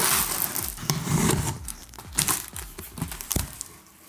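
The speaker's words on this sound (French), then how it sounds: "Et on s'en met de notre petit couteau pour tout simplement déballer tout ce qu'il faut." PC component packaging is crinkled, torn and cut open with a small knife, producing close, busy crackling of plastic and cardboard with sharp snaps and rustles, no talking.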